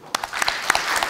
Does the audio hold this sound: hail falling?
no